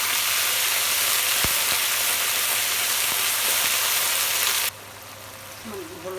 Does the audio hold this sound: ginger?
yes